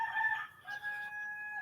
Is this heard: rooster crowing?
yes